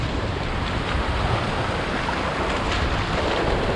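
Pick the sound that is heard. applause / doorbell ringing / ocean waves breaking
ocean waves breaking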